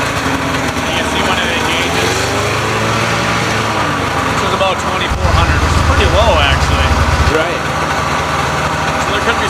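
A used snowmobile engine runs steadily at close range with a loud, buzzy, high-pitched drone. Partway through, the tone deepens briefly and then settles back.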